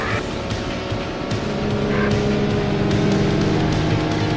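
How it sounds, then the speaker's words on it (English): Race car engine in the Need for Speed video game, revving harder as the car gathers speed downhill, a loud continuous roar that rises and builds, with brief tire-like squeals and no talking. "You can really tell how the car speeds up downhill."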